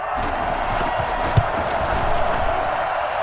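Stadium crowd roaring and cheering after a touchdown in the Madden NFL 21 football video game, a steady loud wash of crowd noise with a brief sharp thump midway.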